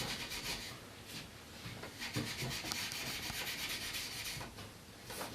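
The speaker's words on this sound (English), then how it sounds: "Go over it with the Scotch-Brite pad first, like that." A Scotch-Brite pad rubs along a wooden chair spindle in a series of close, scratchy back-and-forth strokes, continuous and fairly soft, with no talk.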